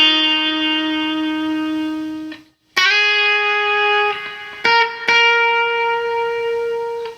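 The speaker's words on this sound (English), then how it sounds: "there's a little bit of a lead line where I'm going to slide in to one of the chord tones and then walk down" An electric guitar plays a lead line for a beat, sustained clean notes sliding into a chord tone and then walking down in a few plucked steps, with a short gap partway through.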